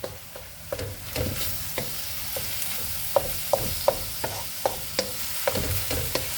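Onions, garlic and chili being stirred in a hot pan for a vegan Indian spinach curry, a spoon scraping in irregular clicks and taps over a steady low sizzle, close and moderately loud, no talking.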